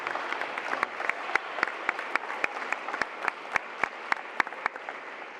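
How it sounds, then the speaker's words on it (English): Applause from a college sports awards audience honoring its athletes, a steady wash of many hands with a few sharp, loud individual claps standing out near the front, continuing evenly throughout. "just give them a quick hand clap real quick"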